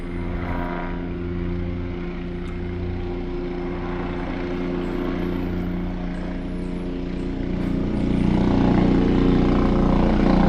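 Police helicopter flying past a house, a steady droning rotor and engine hum with strong low tones, growing slightly louder toward the end, heard alone without talk.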